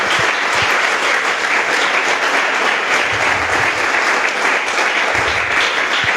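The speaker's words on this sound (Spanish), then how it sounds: "Le damos un aplauso al Señor" A church congregation applauds steadily and loudly during a sermon, a dense, continuous wash of clapping with no pauses across the whole stretch.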